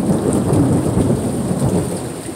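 Thunder rumbles through an August thunderstorm, a deep, loud, continuous roll with heavy rain hissing beneath, no voices.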